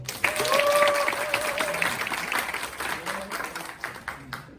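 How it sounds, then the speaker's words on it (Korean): An audience at a theology college freshman orientation gives welcoming applause, moderately loud and sustained. A faint voice and tonal sounds drift underneath. "다시 한번 우리 축하의 환영의 박수 한번 해주시기 바랍니다"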